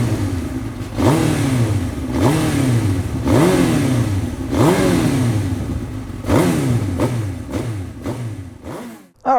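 A 2006 Suzuki GSX-R1000 K6 sportbike engine blips its revs again and again in sharp bursts, each rise dropping quickly back to a steady idle, loud and close with no talking.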